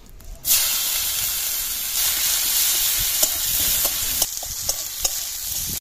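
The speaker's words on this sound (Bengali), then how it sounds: "পেঁয়াজটা ভাজা ভাজা হয়ে গেছে" Chopped onions hiss and sizzle steadily in a hot pan with cumin, bay leaf and dried chilli, with scraping clicks of stirring toward the end, close and fairly loud.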